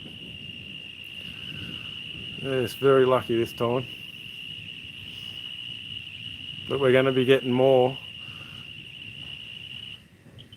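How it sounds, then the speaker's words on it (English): A steady, high cricket trill runs continuously in the background while someone speaks in two short bursts over it. "we get lots of crickets and stuff around here"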